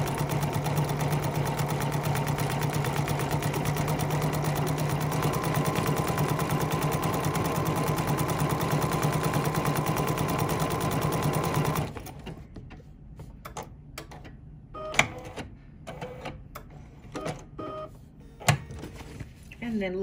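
A sewing machine runs a decorative stitch in a long, continuous, even whir of rapid needle clatter, then stops, leaving scattered clicks and knocks as a person talks nearby.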